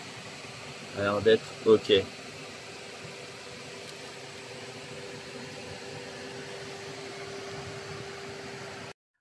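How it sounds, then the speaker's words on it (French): The cooling fan of an MG ZS EV electric car runs with a steady, even whirring hum and a faint tonal whine, someone speaking briefly over it near the start. "on va tout simplement tirer dessus le ventilo qui tourne, on l'entend bien"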